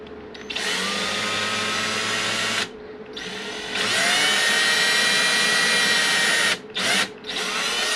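A power drill bores small holes in balsa wood dowel pieces laid over a scrap block, loud whining bursts with a short pause near three seconds and brief stops near the end.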